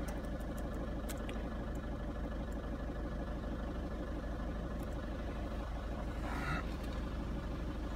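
A car engine with a turbo actuator position sensor fault idles steadily, a constant low hum close by with a few faint clicks and one brief louder rustle near the end.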